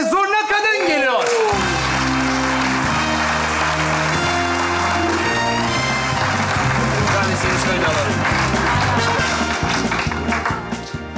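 Studio audience applauding at a Turkish comedy stage show, a dense steady wash of clapping that runs continuously beneath loud, rhythmic music for the whole stretch.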